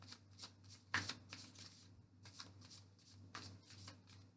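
Tarot cards are shuffled by hand in repeated quick riffling bursts, close and fairly soft, with brief pauses between rounds.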